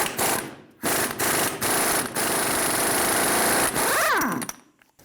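Axle nut coming off a 2005-2015 Toyota Tacoma with a 35mm socket, loud rattling power-tool bursts in several close, steady runs, ending with a brief rising whine before stopping.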